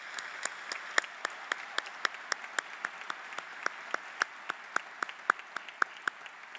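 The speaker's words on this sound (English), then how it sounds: "Let's give them a round of applause." Sparse applause at a high school graduation ceremony for the Chanhassen High School Symphonic Winds, a modest scattering of individual claps with a steady uneven rhythm, fairly distant and light.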